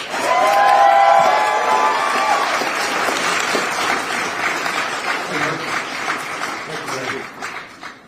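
Audience applause welcoming Senator Sanders at a rally of parents and allies opposing a national private school voucher program, a loud sustained wash of clapping with some cheering that fades slightly over eight seconds.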